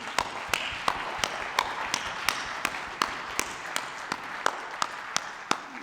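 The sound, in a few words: audience applause for the cadets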